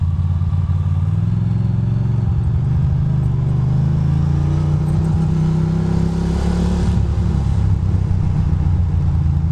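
Motorcycle ridden on a snowy, slushy Queens street in NYC after a huge snowstorm, its engine droning loud and close as it passes a car, with road rumble and clatter throughout.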